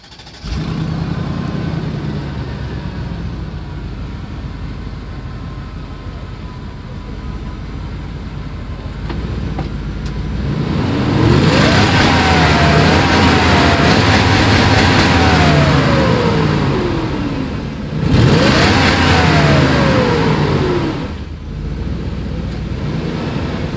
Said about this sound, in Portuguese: Agora a gente vai filmar para vocês o ronco do motor.